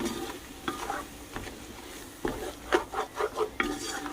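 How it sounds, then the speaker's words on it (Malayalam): Shallot, garlic and ginger paste fries softly in oil while a spoon stirs and scrapes the pan in uneven strokes, a low sizzle running underneath. "ചെറിയ ഉള്ളി, വെളുത്തുള്ളി, ഇഞ്ചി, ഇതും എല്ലാം കൂടെ മിക്സ് ചെയ്ത് ഇതാണ് ഇതിലേക്ക് ഇട്ട് കൊടുക്കാൻ പോകുന്നത്"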